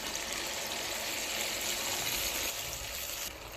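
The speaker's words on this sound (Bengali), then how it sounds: "এ পর্যায়ে পানি অ্যাড করবো" Water pours steadily into a cooking pot of beef and papaya curry in a continuous splashing rush for a few seconds, then tapers off slightly at the end.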